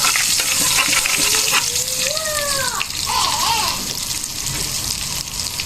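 Star margarine hissing in a hot pan while squid cooks, a loud, dense sizzle holding steady throughout, with a brief gliding whistle-like tone partway through and a faint voice in the background.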